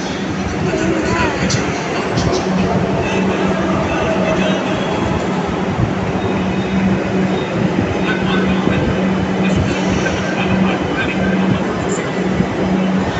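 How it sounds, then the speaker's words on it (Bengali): A metro train pulls into a station platform with a loud, continuous rumble and rattle of wheels and carriages filling the whole stretch, close and steady throughout. "এই আমার ট্রেন চলে এলো।"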